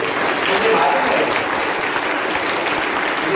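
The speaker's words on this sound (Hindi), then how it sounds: "जोर से तालियां हो जाओ।" Loud, dense applause fills a crowded hall at a school farewell programme, steady clapping from a large audience with faint voices mixed underneath.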